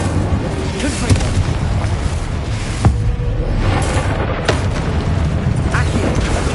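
Fiery Confringo explosion spells from the video game Hogwarts Legacy boom repeatedly in loud, rumbling bursts with sharp cracks between them, mixed with game effects and a speaking voice.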